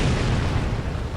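A 150mm artillery barrage in the war game Combat Mission, a loud, dense rumbling roar of explosions filling the whole short moment.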